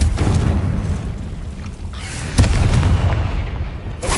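A Confringo spell blasting in a wizarding duel, a dense rumbling explosion with a sharp burst near the midpoint, loud and sustained throughout.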